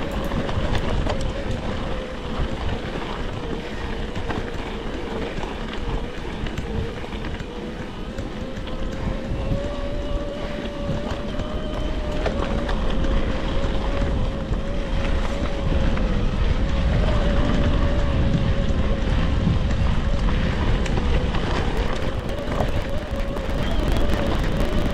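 The 111 Nm motor of a Specialized S-Works Levo Gen 4 e-bike runs through a timed climbing test, giving a steady whine that rises and falls slightly. It sits under constant loud wind rush, with no talk.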